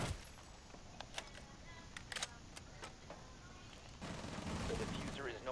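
Gunfire in the tactical shooter Rainbow Six Siege, with several sharp, scattered shots over a faint background and a rougher, louder stretch of noise near the end.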